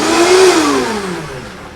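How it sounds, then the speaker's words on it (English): A kitchen blender running on high while blending salsa ingredients, its motor whine rising briefly then slowly settling lower, loud and close with no talking. "because the blender's going to take care of that"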